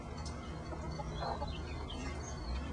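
A hen clucks repeatedly while pecking food from a bowl at breakfast time, the soft clucks close and continuous over steady background noise.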